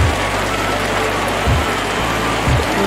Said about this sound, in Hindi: भाई लोगों लग बारिश लग चुकी है बहुत तेज